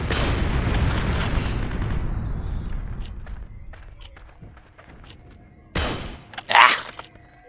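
Gunfire in the World War II shooter Heroes & Generals, with a loud burst of shots and booms at the start that fades into a distant rumble, then a few sharp isolated cracks near the end.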